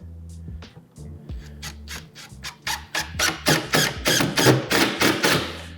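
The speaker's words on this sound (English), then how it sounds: "we're going to take some of these 3-inch screws that we send with the fixed bookshelf, and we're going to toe nail in the jamb" Three-inch screws driven at an angle through a door jamb into a stud, a rapid series of sharp ratcheting clicks and knocks that grows louder and denser, close up with no talking.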